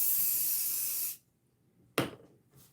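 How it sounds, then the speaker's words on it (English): Cleaner is sprayed onto guitar strings in one long, steady hiss that cuts off abruptly, followed by a short soft puff and a faint brush. "We got to spray this."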